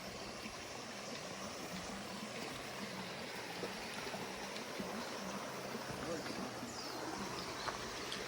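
A mountain stream on the path up to Tataki waterfall in Japan: a soft, steady rushing and trickling of water, faint and even throughout, with no clear talking.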